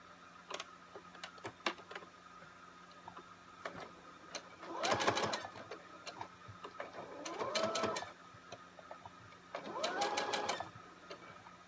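A sewing machine stitches a fabric face mask in three separate short runs, each a quick rattling burst of a few seconds with quiet pauses between, close and fairly clear.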